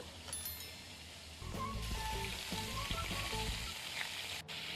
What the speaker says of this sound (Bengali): তেলটা গরম হয়ে যাওয়ার পর আলু আর ফুলকপিগুলোকে একসাথেই দিয়ে দেবেন।